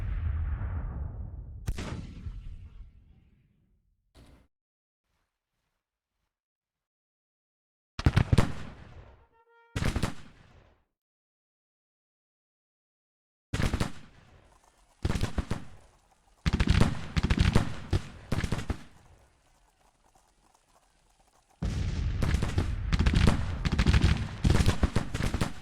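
Cannon fire and musket gunfire from the Civil War strategy game Grand Tactician, loud booming blasts and crackling volleys arriving in separate bursts with silent gaps between, ending in a sustained rattle of fire.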